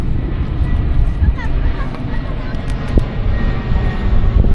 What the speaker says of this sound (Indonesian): Pesawatnya kedengeran kan suaranya?